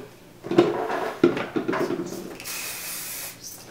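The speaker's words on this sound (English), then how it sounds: "I am going to be spraying with this Hot Off the Press by Paul Mitchell" Paul Mitchell Hot Off the Press thermal protection spray applied to hair: a few short handling knocks, then a soft, steady hiss of spraying close to the microphone.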